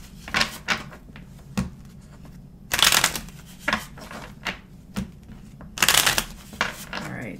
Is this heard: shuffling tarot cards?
yes